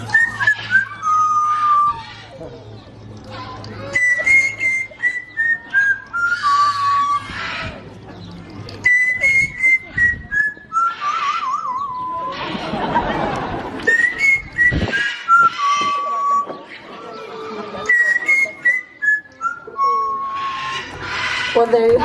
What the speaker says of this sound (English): He makes these tunes up as he goes along, so I never quite know what's going to come out of that little beak